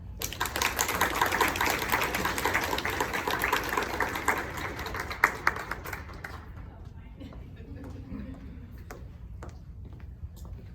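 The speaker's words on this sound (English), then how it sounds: "Please give a round of applause to Rashawnda" An audience at the NSLS Fall Induction 2022 applauds Rashawnda, a dense, fairly loud spell of clapping that fades after about five seconds into scattered claps and faint room noise.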